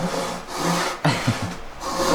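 A hand saw cuts through wood in a few short rasping strokes, close and fairly loud, with no talking.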